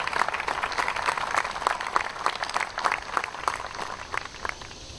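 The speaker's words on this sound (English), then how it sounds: "How about a big round of applause for the Lacour family?" A medium-sized audience at a Navy Reserve change-of-command and retirement ceremony claps steadily for several seconds, individual hand claps audible within a moderately loud, continuous patter that softens a little near the end.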